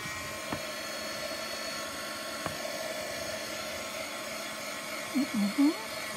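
A heat gun blowing on a craft card, a steady close whirring blast of air that runs continuously with a few faint clicks and a brief soft voice near the end.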